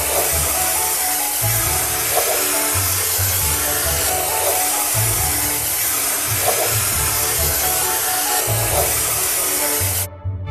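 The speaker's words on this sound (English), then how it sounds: "Let's paint the chain and anchor with the help of a spray gun." Steady, loud hissing spray runs almost without a break, with a low pulsing hum beneath it, cutting off abruptly at the end.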